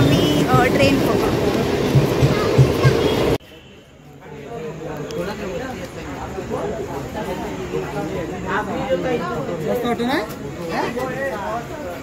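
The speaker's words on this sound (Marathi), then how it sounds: "आता आम्ही चर्नी रोड स्टेशनवर आहे आणि आता आम्ही ट्रेन पकडू" A local train rumbles at Charni Road station in Mumbai, loud and close at first, then a quieter stretch of rolling carriage noise with people chattering nearby.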